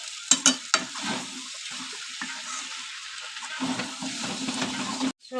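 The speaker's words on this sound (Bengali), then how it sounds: "এখন দেখো ওপর দিয়ে পেঁয়াজ দেওয়া হচ্ছে" Chopped onion drops onto white pasta cooking in a pan, and a soft, steady sizzle follows with a few light clatters at the start.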